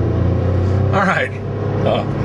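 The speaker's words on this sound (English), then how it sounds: "I just had to get back on the road from a dirt shoulder." A car pulls back onto the road from a dirt shoulder, its engine rumbling loud and close inside the cabin with a brief rise in effort, while a person talks over it.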